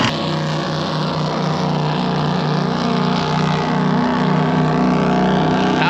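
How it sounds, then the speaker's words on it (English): A speedboat motors through a sailboat anchorage, its loud, steady engine drone close and continuous throughout, with no talking. "Speedboat coming through the anchorage here."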